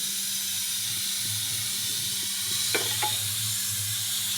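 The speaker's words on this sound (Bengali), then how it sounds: "কড়াই গরম হয়ে গেছে, দিয়ে দিলাম তেল।" Oil sizzling in a hot wok: a steady, bright hiss throughout, fairly close, with a couple of faint clinks partway through and no speech.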